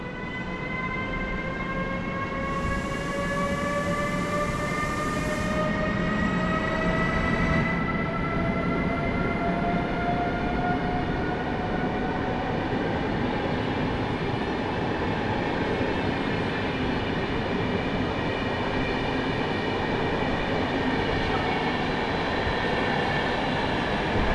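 An electric passenger train hauled by EU200 004 pulls away steadily, its motor whine rising through several tones over a continuous rumble of wheels on rails, close by and loud throughout.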